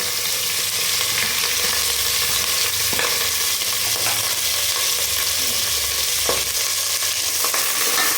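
Onion, dried red chili and curry leaves sautéing in hot oil in a pan for tomato rice, a loud, steady sizzle with occasional stirring scrapes, close and alone without talk.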